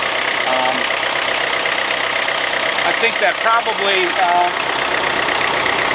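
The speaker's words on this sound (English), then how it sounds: "it does run a little rough at idle, especially when it's cold" A small 40-horsepower car engine idles roughly with a steady low rumble and uneven knocking, while someone speaks over it in the foreground.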